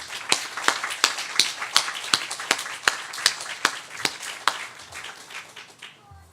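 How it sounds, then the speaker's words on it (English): Patriot Day memorial gathering claps in tribute, a sparse crowd producing sharp, distinct hand claps in a loose rhythm that thin out and fade after about five seconds. "let's just honor them with a hand clap right now if we can"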